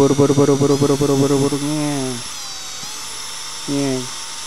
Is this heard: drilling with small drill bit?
yes